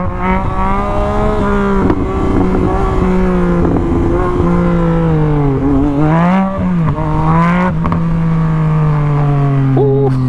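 Several Harley-Davidson motorcycles pass close by, their loud, deep engine drone rising and falling in pitch as the bikes rev and roll past, with no talking.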